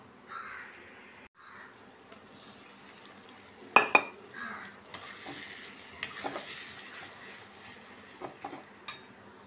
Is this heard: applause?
no